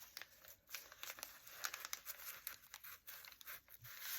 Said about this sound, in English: It's fun to use the brown paper in journals. It's nice and crinkly.